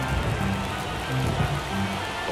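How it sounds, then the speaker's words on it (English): Steady rain falls on a baseball field in MLB The Show 24 during an Astros vs Orioles ALCS game, a continuous wash of broadband hiss with faint murmuring underneath throughout. "the field's not going to be able to hold up if the rain gets any worse than this"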